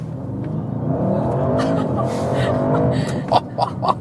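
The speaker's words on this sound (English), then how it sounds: "One more acceleration in the RS mode." Audi RS7 Performance V8 from 2024 accelerating hard in RS mode, a steady loud engine roar climbing in pitch with sharp bursts near the end.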